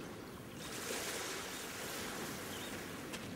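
Calm sea waves washing onto a beach in the Secret Files 2 adventure game, a steady soft surf roar with broad hiss and no distinct breaks, even and continuous throughout.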